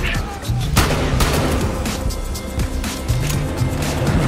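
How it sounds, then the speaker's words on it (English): Gunfire in Battlefield Hardline, a loud sharp shot early on followed by scattered shots, impacts and clatter over continuous game noise, with no voice standing out. "I'm getting shot at!"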